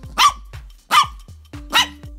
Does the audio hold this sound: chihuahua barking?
yes